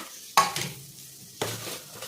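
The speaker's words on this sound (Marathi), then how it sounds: "आता परतून घ्यायचं आहे।" Bitter gourd bhaji with turmeric and garam masala being stirred in a pan, two short bursts of scraping and soft sizzling with quiet gaps between.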